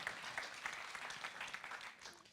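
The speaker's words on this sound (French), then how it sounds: "on peut applaudir Paul bien fort." Audience applause closing a talk at the France is AI 2018 conference, a steady but fairly quiet wash of clapping from a crowd, heard alone with no speech.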